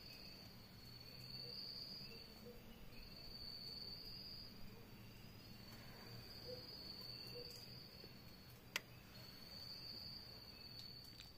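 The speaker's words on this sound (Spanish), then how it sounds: "huele a pura tierra mojada y tanto grillo" Crickets chirp steadily through a rainy night over damp earth, a continuous high shrill pulsing in repeated bursts, moderately close and fairly quiet, with no talking.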